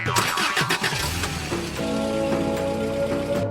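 A family car's engine cranks with a few rough turns, then catches and settles into a steady idle hum, close and fairly loud, with a hiss like rain in the background.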